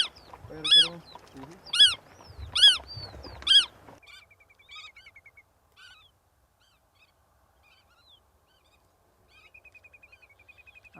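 Godwit parents calling noisily near a banding site, four loud harsh honking calls in quick succession, followed by fainter, thinner repeated calls and a trailing chatter.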